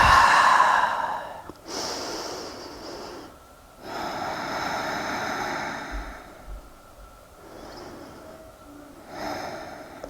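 Deep nasal breaths during a seated yoga twist, close and loud: a sharp snorting inhale, long audible exhales and several more breath cycles, with no talking.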